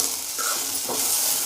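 Green mango with chutney powder sautés in a pan, giving off a continuous, close, bright hiss and sizzle with faint scraping from stirring.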